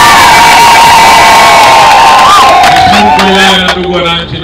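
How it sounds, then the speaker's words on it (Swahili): A loud crowd at an event marking a health centre in Mtwango cheers, whoops and shouts together, a continuous roar with some children's voices that swells and then slightly tapers. "Naomba jipigieni makofi."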